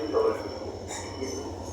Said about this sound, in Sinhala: කෝච්චිය තමයි ඔය එන්නේ